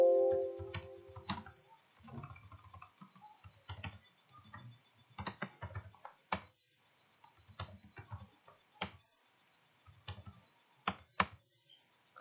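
Typing on a computer keyboard while entering a command into a software editor, heard as irregular bursts of close, crisp key clicks with short pauses between runs of keystrokes.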